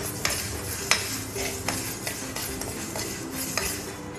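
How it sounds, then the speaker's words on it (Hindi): Fenugreek seeds roasting in a pan for raw mango khatai, heard mostly as a string of light metallic spoon clinks and scrapes against the pan over a faint sizzle, close and without talk. "इसलिए सबसे पहले डाल रहे हैं मेथी। मेथी हल्की ब्राउन हो जाएगी"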